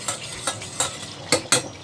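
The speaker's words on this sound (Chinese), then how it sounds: "咁開火煮咗佢先，嗱唔好煮燶佢，我哋係要爆香啲蒜" Minced garlic frying in a little oil in a pan, heard as a close sizzle broken by several sharp scraping stirs against the pan, with no voices.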